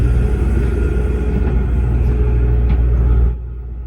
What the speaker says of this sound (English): I heard a garbage truck outside. I think it's collecting garbage.